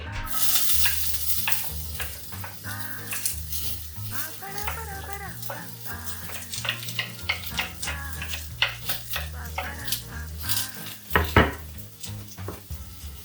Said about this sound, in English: I got about 1 tablespoon of coconut oil heated in there, and to that I'm gonna be adding garlic, ginger, and onions.